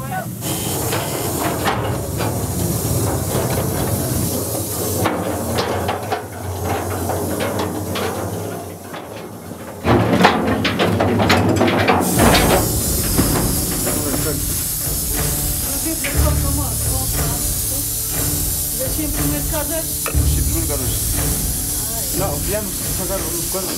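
Steady broadband air hiss from ventilation pipes deep inside a Potosí mine, a continuous rushing that swells louder partway through, with rumbling undertones and indistinct voices beneath.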